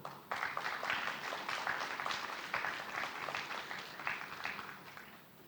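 Audience applause fills a hall at a diploma graduation ceremony, a dense, sustained clapping from a large crowd lasting several seconds at a fairly even level.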